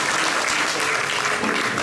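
Audience at an official event applauding, a dense, loud, sustained burst of clapping from a large crowd, even throughout with no break.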